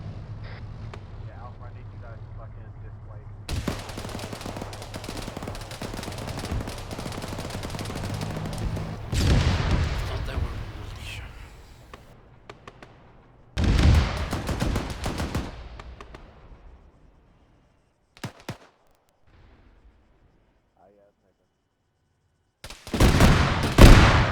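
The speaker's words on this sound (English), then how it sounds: "I don't know why you're shooting 50 cals at a BMP" Heavy .50 caliber machine gun fire in the military shooter game Arma 3, aimed at a BMP armored vehicle, with sustained bursts, loud cracks and rumbling impacts separated by quieter gaps, and a final loud burst at the end.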